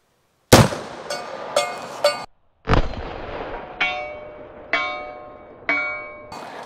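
A Beretta PMXs TEC-9 style gun fires at an outdoor range, nine sharp shots in an irregular string, each followed by a ringing metallic clang of steel targets.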